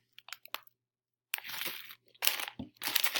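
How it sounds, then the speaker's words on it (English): Close-up crunching of Takis rolled tortilla chips: sharp bites and chewing come in several loud bursts separated by short silences, with no talking. "I'm eating Takis."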